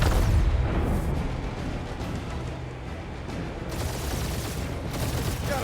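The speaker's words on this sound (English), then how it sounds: "We're taking fire!" Dense gunfire from the Guardians of the Galaxy action game on PS5, a loud, continuous barrage of shots and booming impacts that rolls on without pause throughout.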